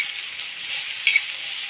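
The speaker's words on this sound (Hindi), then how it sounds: "और हम सोयाबीन को पहले फ्राई करेंगे।" Soybeans fry in hot oil in a pan for a home-style vegetable curry, giving a steady, close hiss with a few brief crackling pops near the end.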